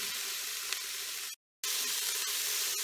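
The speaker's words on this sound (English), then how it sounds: "Let them saute for about 3 or 4 minutes." Diced onions, carrots and celery sauté in hot oil inside an Instant Pot, a steady close sizzle and hiss broken by one brief silent gap.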